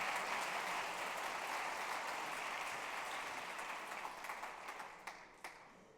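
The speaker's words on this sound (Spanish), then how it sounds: "Fuerte el aplauso para Dios." A church congregation breaks into applause for God during a Spanish-language sermon, dense clapping that holds steady, then thins out and fades to a few scattered final claps.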